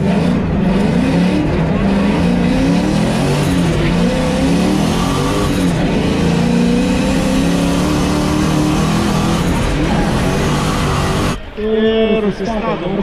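Race car engine held at high revs through a lap, loud and continuous with shifting pitch as it accelerates and brakes, the sound changing near the end; commentary-like talk is mixed in beneath.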